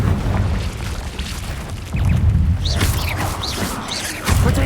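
Confringo fire-blast spell explosions in the Hogwarts Legacy video game, cast in a cave: repeated deep booms with whooshing tails, a few separate blasts landing in quick succession, loud and close with no talk.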